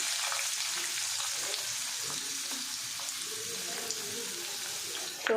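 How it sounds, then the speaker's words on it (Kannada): Onions sizzle steadily in a hot pan for a sandwich filling, a dense, even hiss of frying that runs throughout at moderate loudness, with small scraping and stirring noises scattered through it. "ಆನಿಯನ್ ಫುಲ್ ರೋಸ್ಟ್ ಮಾಡ್ಕೋಬೇಕು"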